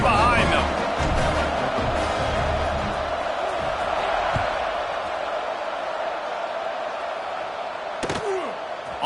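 Steady stadium crowd roar at kickoff in the NCAA 26 college football video game, a broad wash of cheering that holds throughout at fairly loud level, with a sharp thump near the end.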